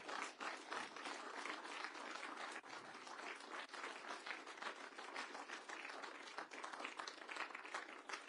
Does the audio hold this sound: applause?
yes